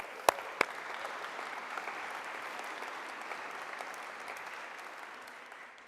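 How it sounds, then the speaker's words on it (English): Conference audience applause, a dense even wash of clapping that carries on steadily and fades slightly toward the end, with a couple of sharp louder claps near the start. "I want to give a big round of applause to Andy Burnham"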